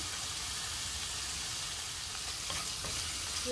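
Seafood sears in a hot pan with a steady, close sizzle and hiss that runs throughout, with faint stirring crackles toward the end.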